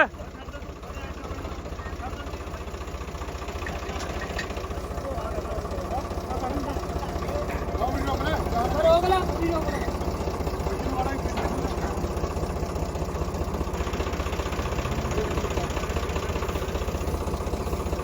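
A tractor engine idles with a steady low rumble throughout while a trolley of bricks is unloaded, and voices talk over it now and then.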